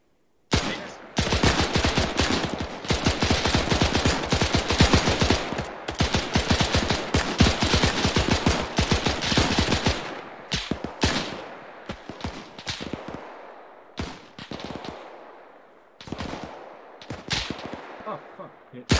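Sustained machine gun fire in Arma 3, dense rapid bursts close and loud for about ten seconds, then scattered shorter bursts and single shots with gaps between.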